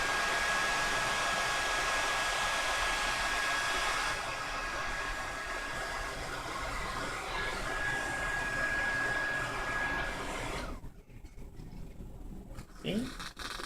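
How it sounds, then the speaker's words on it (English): A hair blow dryer runs steadily on a synthetic or human hair weave, a loud continuous whooshing hum that shifts slightly in tone, then cuts off near the end, leaving faint handling noises. "put the blow dryer on it."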